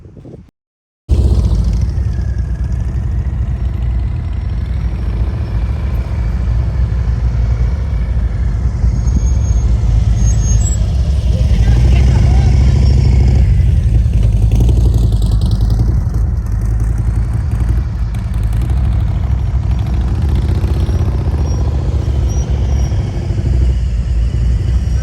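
A motorcycle engine runs continuously at close range during riding practice, its pitch climbing and falling as the throttle is worked, with rumbling low end and some wind buffeting, no speech.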